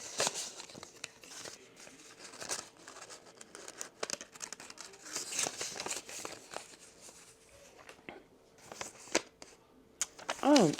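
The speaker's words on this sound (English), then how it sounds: "See what this little envelope is." A small paper envelope from Byredo perfume packaging is handled and opened, giving soft crinkling, rustling and tearing sounds in uneven bursts, close up, while someone talks over parts of it.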